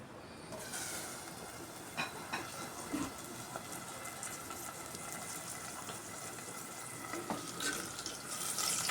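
Onions fry in a pan for a curry, a soft, steady sizzle at low level with occasional light clicks and scrapes of a utensil against the pan.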